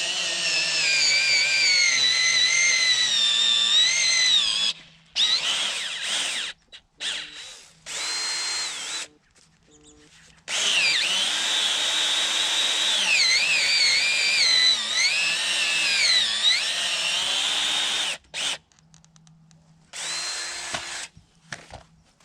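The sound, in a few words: power drill drilling hole in dirt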